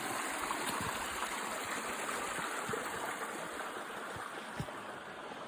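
Steady rushing water of a stream and waterfall at Parfrey's Glen, a constant broadband wash with a few faint splashes, no voices.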